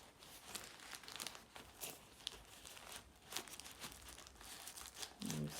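Tissue paper crinkles and rustles inside a Balenciaga Speed Trainer shoe during an unboxing, soft intermittent crackles and scrunches close by, fairly quiet, with a brief low thump near the end.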